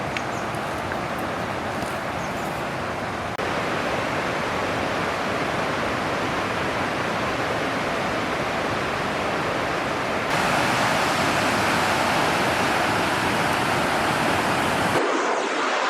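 Thoovanam waterfall in Chinnar near Munnar, Kerala, rushing in a loud, steady roar of falling water that fills the whole clip, with no talk over it.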